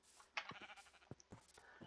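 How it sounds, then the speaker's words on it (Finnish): Sheep bleats from the video game Minecraft come through quietly, with a few short cries and small clicks scattered over a couple of seconds. "Siinä on heti lammas."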